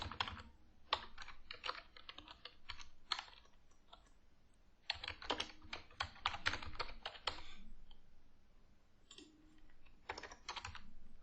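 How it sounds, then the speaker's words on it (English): Rapid clicking of keys on a computer keyboard, coming in bursts with short pauses, close and moderately quiet. "Now I can start typing."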